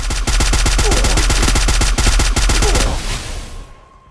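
Rapid automatic gunfire in the Free Fire battle royale game, a dense loud burst of shots for about three seconds with a couple of brief gaps, then trailing off into a fading tail.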